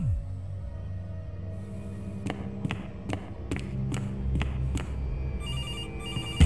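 Telephone ringing in the horror video game CASE Animatronics, a series of sharp repeated rings over a low droning ambient background, moderately loud and without talk.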